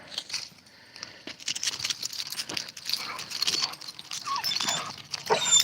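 A large, sturdy dog on a walk, heard as close snuffling, whimpering and jangling movement noises amid steady outdoor background.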